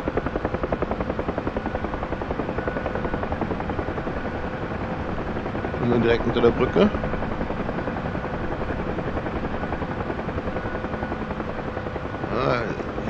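Helicopter rotor and engine drone hovering near zero knots under a bridge at the Hoover Dam in the DCS flight simulator game, steady and loud throughout, with a voice speaking over it.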